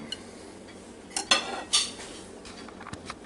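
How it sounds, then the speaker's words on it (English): A knife saws through steak grilled in a Ninja Foodi grill, giving a few short scraping strokes and clinks against the plate, fairly faint and close, with no talk. "that knife just goes right on through there"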